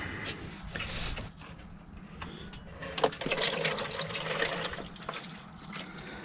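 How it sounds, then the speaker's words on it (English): Oil trickling out of the transfer box of a Land Rover Defender into a small bottle, a quiet, continuous liquid pour with faint splashes and a few knocks, no talking. "So I'm going to drain this into a little bottle."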